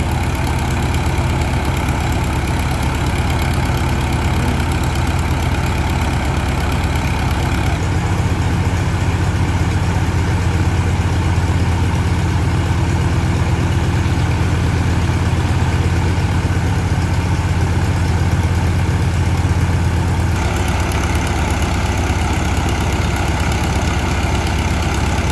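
A sand-pumping boat's engine runs on a waterway in Vietnam's Mekong Delta region, a loud, close, continuous low drone that shifts slightly in pitch and intensity partway through and then returns.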